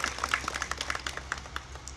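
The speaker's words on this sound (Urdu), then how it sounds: "آپ سب تالیوں سے اس چیز کی" Steady crowd applause from the audience at an All India Mushaira poetry gathering in Rudauli in 2014, with many hands clapping in a dense, continuous patter.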